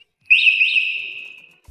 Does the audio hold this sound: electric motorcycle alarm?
yes